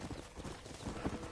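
Horse hooves clip-clop in a brisk, steady rhythm on a ride in the video game Red Dead Redemption, close and fairly loud over a short stretch with no talk.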